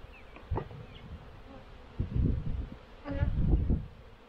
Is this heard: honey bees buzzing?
yes